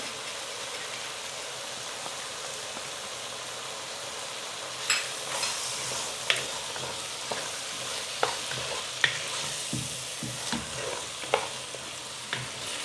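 Ingredients sauté together in a cooking pot for a Kabyle dish, a soft steady sizzle with a scattering of sharper scrapes and clinks from stirring in the second half, no voices.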